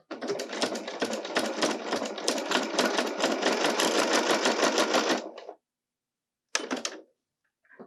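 A sewing machine stitches through pot holder layers with two layers of batting, a fast, loud, even run of needle strokes for about five seconds, then a short burst after a pause.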